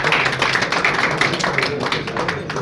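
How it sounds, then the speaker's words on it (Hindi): A crowd at a prize draw event clapping steadily and loudly throughout, a dense continuous patter of many hands close by. "ताली बजाते रहो यार"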